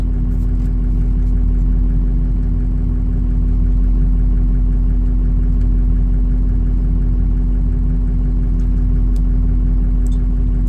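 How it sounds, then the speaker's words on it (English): A Ford 6.0 Powerstroke diesel truck engine idles steadily and close by, a constant low rumble with no revving or talk over it. "Yes, we have the truck running right now."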